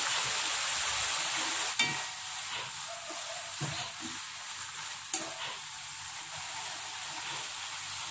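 Tuna sautéing in a pan gives a steady, bright sizzle and hiss, broken by a few sharp clinks and scrapes of a utensil stirring, close by and without talk.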